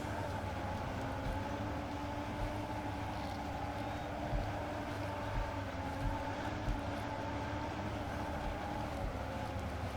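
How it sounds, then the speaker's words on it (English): Steady low engine drone of a logging truck in a driving video game, rumbling on continuously while driving down a river, with no talk over it. "Listen to the engine, it's fine."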